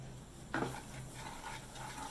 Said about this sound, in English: So you need to stir continuously until the entire sugar dissolves.